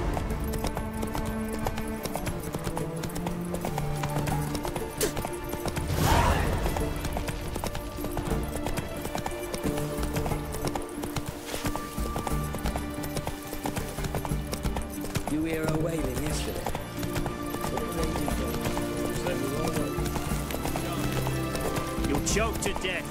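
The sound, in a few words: hooves of Roach, Geralt's horse, in video game The Witcher 3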